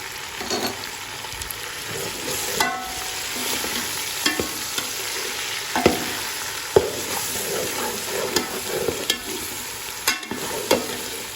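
Ginger garlic paste sizzles and spatters in a hot pan, with scraping stirs and small pops over a steady frying hiss, close up and without talking.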